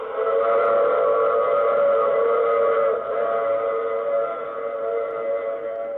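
Train sound effect from an old-time radio drama, a steady droning whistle-like tone held for several seconds with a slight dip midway, moderately loud and without speech.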